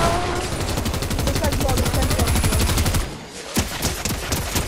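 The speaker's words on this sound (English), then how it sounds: "So funny, the turret, you just throw it and then it's like, bah, bah, bah." A Fortnite turret in a video game sprays rapid automatic gunfire at an enemy in a steady loud stream, pausing briefly before a few more bursts and scattered shots close up.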